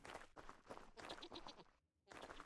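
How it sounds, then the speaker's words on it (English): In the Stone to Space game, a goat bleats in a quick series of wavering, nasal calls, fairly close and a little faint, with a short pause before one last cry. "If I can catch up to this goat, I want to kill it for the leather."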